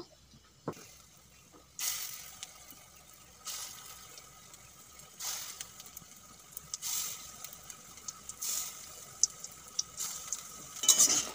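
Lentil fritter mixture for a curry is worked together with coriander leaves, turmeric and salt, giving faint, intermittent stirring and scraping sounds in a quiet kitchen.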